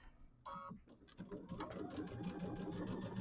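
A sewing machine stitches a 1/8-inch seam on a Kimberbell mini quilt, its steady rapid mechanical whir running continuously and close after a brief start, loud and uninterrupted.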